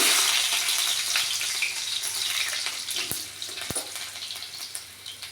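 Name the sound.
mustard seeds, cumin and garlic sizzling in hot oil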